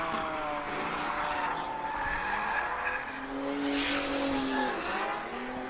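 A drift car slides around a circuit with tires squealing in long wavering tones over a roaring engine, heard from a moderate distance.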